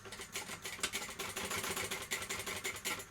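A sewing machine top stitching a backpack runs steadily for the whole stretch, a dense rapid mechanical patter at close range with no talking.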